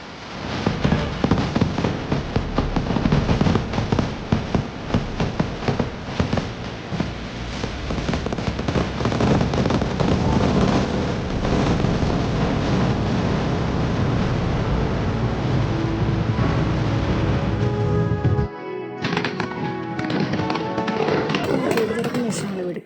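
Fireworks display at the Pavaratty church feast in 2025, a dense rapid barrage of cracking bursts and booms that keeps up at high loudness for nearly twenty seconds, then stops abruptly and leaves a quieter tail.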